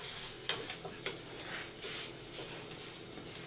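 Chana dal fries in a little oil in a pan, giving a steady close sizzle with scraping stirs and pressing throughout, and no talking.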